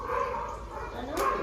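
A dog gives a couple of short barks and yips indoors at a home, mixed with nearby human voices.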